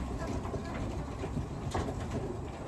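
Racing pigeons in a loft coo softly and continuously beneath a steady low background hum, with no talk over them.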